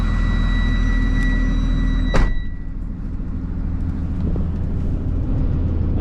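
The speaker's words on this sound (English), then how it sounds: "This is the only vehicle I've ever owned that has a diesel engine in it." A 2017 Jayco Seneca diesel motorhome idles loudly right after start-up, a constant deep engine drone with a thin whine above it. A sharp click or hiss cuts in partway through, and the rumble settles slightly afterward.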